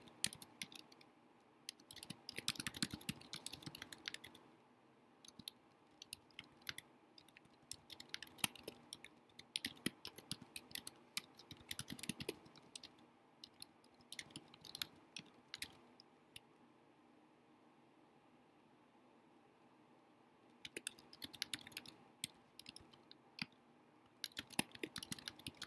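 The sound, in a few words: typing on a computer keyboard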